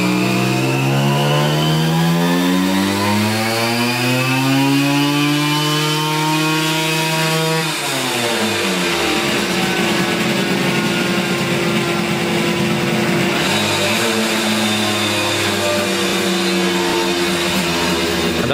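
A car engine running at full throttle on a dynamometer test bench, loud and continuous, its pitch climbing steadily then dropping at a gear change before settling into a sustained high drone.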